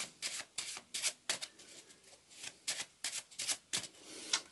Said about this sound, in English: And if you want, we'll give it one of these shuffles.